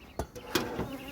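Honeybees buzz around a Dadant hive being moved, a few short close buzzing passes over a soft insect hum, brief and moderately loud.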